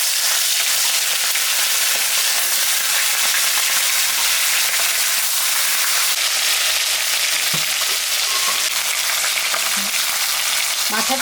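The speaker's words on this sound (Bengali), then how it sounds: "মাথাটা ভাজা হয়ে গেছে, আমি এখন তুলে নেব।" Katla fish head frying in hot mustard oil in a kadai, a loud continuous crackling sizzle with occasional spatters and stirring sounds, close up and without any talk.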